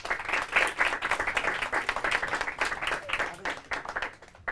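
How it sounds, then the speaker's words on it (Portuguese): An audience at a Portuguese-language quiz round applauds, a dense, steady clapping that tapers off slightly toward the end. "Palmas para eles."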